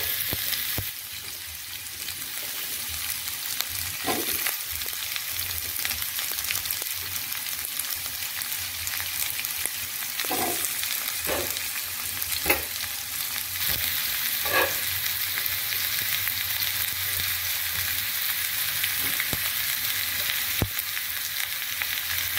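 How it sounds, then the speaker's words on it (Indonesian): Carrot and chayote stir-frying in a pan, a continuous dense sizzle with occasional sharp ticks and clinks of a utensil against the pan throughout, no one speaking. "kita tumis sampai dia setengah"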